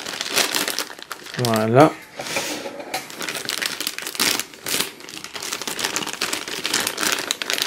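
Plastic packaging of a Toy Story Mystery Minis blind box crinkles and tears up close in short bursts, with a brief voice and quiet talk around the rustling.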